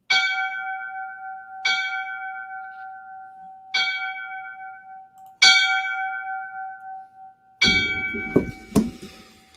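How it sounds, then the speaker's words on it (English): Five separate strikes of a single bell, rung as a tribute by a fire service crew, each clear toll ringing out and decaying, evenly spaced about two seconds apart, with the last one overlapped by some bumping and handling noise. "I'm going to give him the 5 bells."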